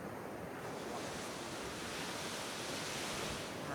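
Ocean surf washes onto a beach in a continuous, soft broadband roar that swells slightly, faint and distant, with some wind buffeting the microphone and no voices.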